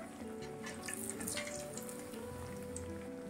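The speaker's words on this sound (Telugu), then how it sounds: "మీడియం ఫ్లేమ్లో పెట్టుకొని వేయించుకోవాలి." Chickpea vada (chole vada) frying in oil over a medium flame, a steady continuous sizzle and bubbling crackle holding at an even level throughout, with no voices.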